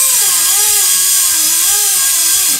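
An air compressor refills its tank in a workshop beside a Honda CRF300L, a loud, close motor drone with a wavering pitched whine that holds steady, then eases off at the very end.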